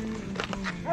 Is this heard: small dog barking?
yes